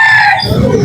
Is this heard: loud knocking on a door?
no